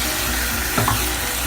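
One medium onion sautéing in a tablespoon of olive oil: a dense, steady close sizzle with a faint brief scrape partway through, short and without voices.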